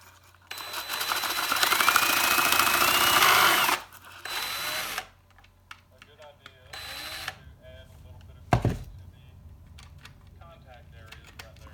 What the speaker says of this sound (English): Oh, it just disconnected itself from the drill.